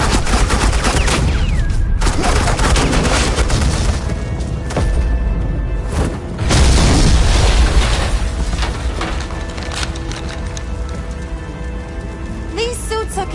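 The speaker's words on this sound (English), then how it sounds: "Suppressing fire." Rapid suppressing gunfire bursts and booms in the video game Batman: The Enemy Within, loud and dense over about thirteen seconds, with a voice speaking amid the shooting.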